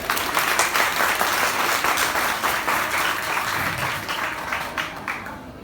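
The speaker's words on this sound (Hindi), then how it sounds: "एक बार उन सभी टीचर्स की याद में एक बार जोरदार तालियां" An audience at a Teacher's Day celebration at a computer institute in Udhampur claps loudly in honour of teachers. The applause is a sustained, crowded wash that holds strong, then thins slightly toward the close.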